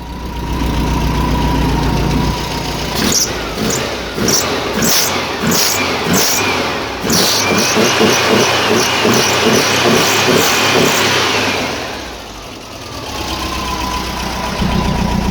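A Volkswagen Type 4 Beetle engine fitted with an old turbo muffler idles loudly and close by, with a burst of throbbing, uneven revving in the middle before it settles back to a steady idle.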